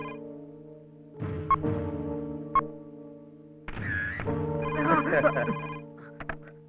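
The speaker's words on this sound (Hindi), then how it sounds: "अबे फोन बज रहा है।" A telephone rings with bright, repeated electronic tones in a scene from a Hindi-dubbed South Indian action film, sounding over people talking and background music, with a few sharp accents near the end.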